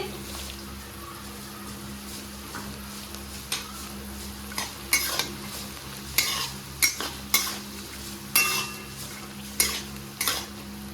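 Raisins and cashews fry together in a pan for fried rice, under a steady sizzle, with repeated sharp scrapes and clinks of a spatula stirring against the metal pan in irregular bursts.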